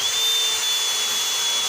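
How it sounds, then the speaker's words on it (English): A power drill set to normal drilling mode, not hammer, bores into a house wall while pointing, a steady, loud, high whine held throughout with no talking. "So just have it like a normal drill."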